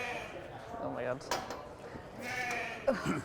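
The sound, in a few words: sheep bleating before shearing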